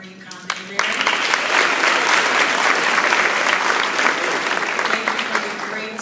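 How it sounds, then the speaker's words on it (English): Conference luncheon audience giving a round of applause for a guest speaker, a dense, loud burst of clapping that swells quickly and holds steady before thinning slightly toward the end. "Let's give a quick round of applause for Dr."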